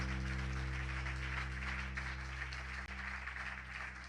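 A church congregation applauds the Lord, a steady, full wash of clapping and crowd noise that holds evenly throughout over a low background hum.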